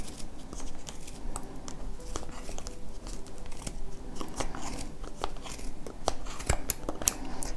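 Scissors snipping yarn while trimming a pompom, a steady run of close, crisp cuts and rustles with no talking.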